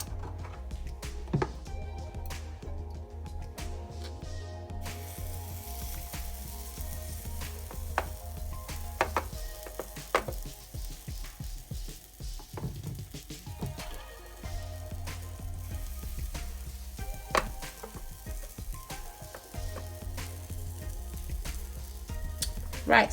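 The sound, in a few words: butter sizzling in a heated waffle maker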